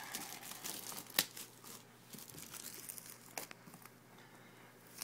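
A Modern Warfare 3 Hardened Edition box being opened by hand rather than cut, close crinkling and tearing of cardboard and plastic wrap with a few sharper rips, quiet and without talk.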